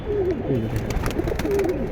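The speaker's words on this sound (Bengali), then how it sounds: "এখানে অনেক ভালো ভালো কবুতর আছে এই যে দেখেন" Pigeons coo softly in low throaty repeated phrases, close by, over a steady background murmur.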